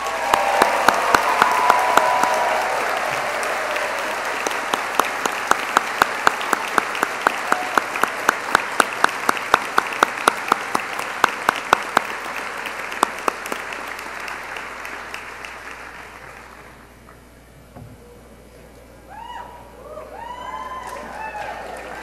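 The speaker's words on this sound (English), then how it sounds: "one last great big round of applause for the class of 2025" Big round of audience applause at a medical school white coat ceremony, dense clapping punctuated by sharp nearby claps that gradually thins and fades out, followed by scattered voices and murmuring talk.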